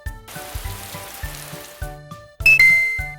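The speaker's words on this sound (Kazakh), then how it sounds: "Жаңбыр." Steady rain hisses evenly throughout, laid over a soft rhythmic music bed, with a bright chime ringing out near the end.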